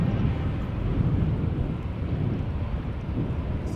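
A Boeing 787 Dreamliner, nine years old, lined up at Schiphol Airport for takeoff to Toronto, its jet engines spooling up into a steady, distant broadband roar mixed with wind buffeting the microphone.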